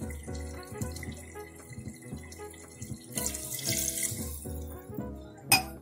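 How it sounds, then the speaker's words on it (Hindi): Water pours steadily into a metal pressure cooker while cooking goat liver masala, a continuous splashing rush with clinks of the vessel, growing louder toward the end. "अब इसमें पानी डालते हैं"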